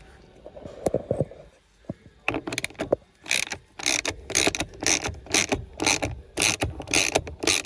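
A bolt hand-tightened into a Dacia Duster steering column, a few soft knocks, then a rhythmic run of close, loud ratcheting or scraping bursts in quick succession.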